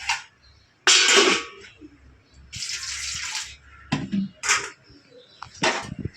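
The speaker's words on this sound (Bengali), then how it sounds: "জলের ছিটা আর কি" In a home kitchen, water from a running tap splashes and is sprinkled in several irregular bursts, close and clear, with quieter gaps between them and no speech.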